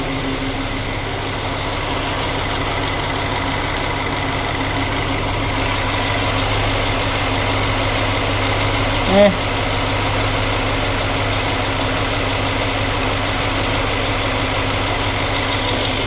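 BMW X5 F15 engine idling, a steady, even, close engine drone with a low hum that holds throughout and a brief small click partway in.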